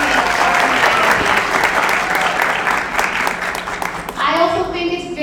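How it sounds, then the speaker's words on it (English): Dense, steady applause fills a packed room at a Toronto mayoral forum on affordable housing and homelessness, loud and close, easing slightly near the end as a few voices rise over it. "please give a round of applause to yourselves for amazing organizing"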